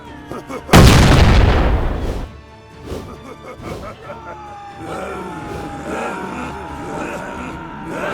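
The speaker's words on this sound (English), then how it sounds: "Oh wow, those are really big bombs." Big bomb blasts go off in Gedonia 2, an old-school open-world RPG: one loud booming crash trails into rumbling debris, then sporadic thuds and clatter follow while a voice talks in the background.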